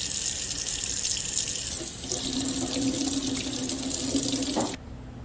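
Tap water runs steadily and close, its pitch shifting as something is held under the stream, then cuts off abruptly.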